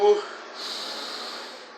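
A person sniffs, drawing air in through the nose in one long, close, breathy inhale that starts with a sharp snort and then fades as it goes on.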